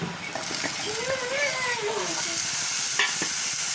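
Crushed ginger and garlic sizzling in hot oil with popping mustard seeds while anchovy thoran is stir-fried, a steady close frying hiss with faint stirring and voices in the background.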